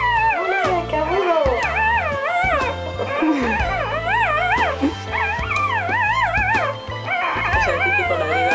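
Water dog barking and howling, long wavering howls mixed with sharp yips and barks in a loud, continuous, close run.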